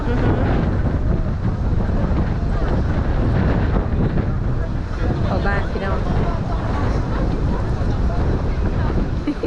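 Strong wind buffets the microphone steadily at an outdoor festival in Cannes, a loud continuous roar that persists through the whole stretch with faint voices underneath.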